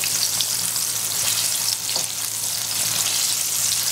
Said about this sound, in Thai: เราทอดให้พอเหลืองกรอบนะครับให้เหลืองให้สีสวยประกอบ